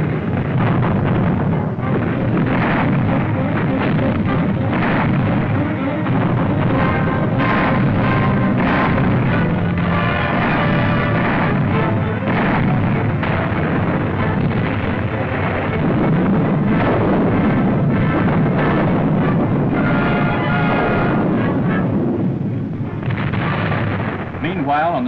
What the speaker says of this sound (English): Field regiments of artillery maneuver in close support of armor and infantry, providing the blasting power to keep Jerry on the move